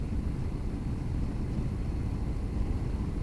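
Honda NC750X motorcycle cruising at around 3,000 rpm and about 60 mph, giving a steady low engine drone mixed with road and wind rumble throughout, close and continuous with no talk.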